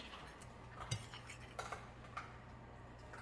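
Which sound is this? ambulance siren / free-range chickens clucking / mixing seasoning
mixing seasoning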